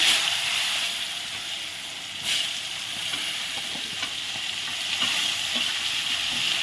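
Pointed gourd frying in oil after aubergine, a soft continuous sizzle with a few sharper spatters and a brief stir near the start, fairly quiet and steady without voices.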